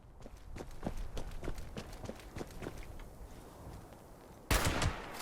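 A sniper rifle in the video game Fallout 76 fires one sharp, loud shot near the end, after a run of soft, rhythmic footsteps and light movement sounds.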